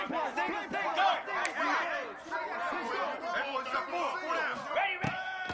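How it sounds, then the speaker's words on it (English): A home crowd roaring at an LSU versus Notre Dame football game, with loud, dense cheering and shouting from a packed stadium swelling and surging throughout. "how nice is it to have the home crowd going absolutely bananas?"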